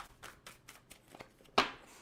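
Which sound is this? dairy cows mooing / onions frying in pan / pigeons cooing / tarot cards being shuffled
tarot cards being shuffled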